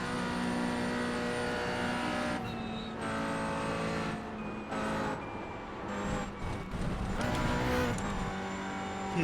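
A Porsche GT4 race car engine drones and shifts through the revs while lapping the Nordschleife in a VR racing game, a steady, fairly quiet whine with brief dips at gear changes and no voices.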